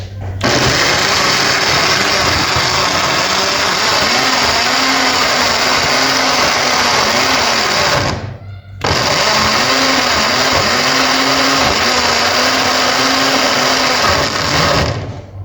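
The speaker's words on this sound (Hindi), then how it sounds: "अब हम इसको चलाएंगे मशीन को" An electric grinder whirs loudly and steadily, blending chicken karahi ingredients, with a brief stop around eight seconds before the motor starts again at full strength.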